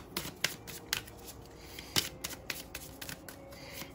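Tarot cards are shuffled close up, giving quick dry riffling flutters and soft papery taps in an irregular rhythm, quiet with no voices.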